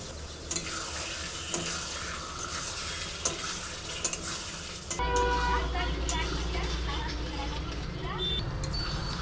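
Loitta fish tipped into a pan of frying spice masala with tomato, a loud sizzle surging as the fish goes in, then steady hissing with stirring clatter and background voices.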